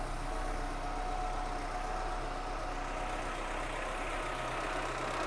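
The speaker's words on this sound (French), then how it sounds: "Et ce moteur qui tourne magnifiquement bien." A Suzuki Santana's rebuilt engine idles steadily just after starting, a smooth, even hum with a dense broadband hiss, continuous and moderately close with no voices.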